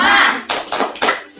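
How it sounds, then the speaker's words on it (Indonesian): Rhythmic 'tepuk semangat' clapping chant from a children's read-aloud storytelling session, with a few sharp clap bursts in a quick pattern, close and fairly loud, mixed with a chanting voice. "ayo kita tepuk semangat. Tepuk semangat."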